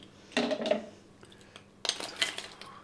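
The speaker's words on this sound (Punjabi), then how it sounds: "ਹੁਣ ਅਸੀਂ ਪਾਉਂਦੇ ਆ ਇਹਦੇ ਵਿੱਚ ਥੋੜੀ ਜੀ ਬਰਫ਼" Homemade ice from the fridge dropped into bael sharbat, giving two quick clusters of clinks and rattles against the vessel with a quiet pause between them.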